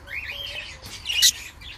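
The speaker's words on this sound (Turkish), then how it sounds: "Yem yemeyi öğrendiler sanırım ama yine ağlıyorlar, yem istiyorlar anne babadan." Budgerigar chicks chirp and squeak as they beg their parents for food, a close cluster of thin warbling calls ending in a brief sharp squeal.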